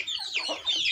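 An English Game hen clucks in short, close bursts, a steady run of bright clucking calls with no talking over it.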